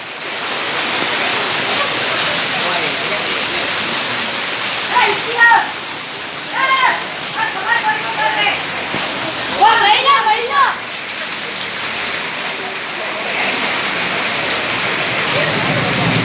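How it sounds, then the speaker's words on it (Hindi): Torrential monsoon rain pours steadily over a flooded market street, water rushing and splashing past shops, a continuous loud hiss throughout with brief voices calling out in the middle. "मूसलाधार बारिश चालू है"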